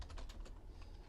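Fingers type on a computer keyboard while entering a table caption in a document, producing a quick, faint run of light key clicks with no talking.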